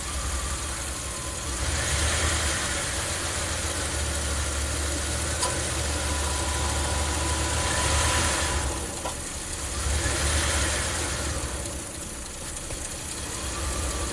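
A Ram camper van engine idles steadily and close by, with a continuous low rumble and mechanical vibration that dips slightly in the middle, as if the idle sags before recovering.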